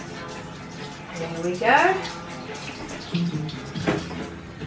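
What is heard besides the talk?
rinsing hands under running tap water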